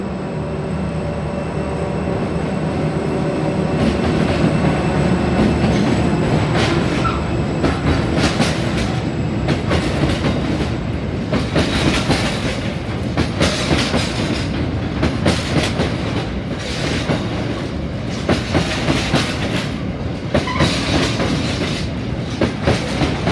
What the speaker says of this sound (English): There's the train end, that's heading to Port Kembla.